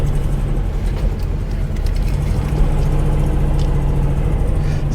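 A Porsche 912 engine idles after starting with electronic ignition fitted, giving a steady, close, low rumbling drone that holds an even pitch throughout.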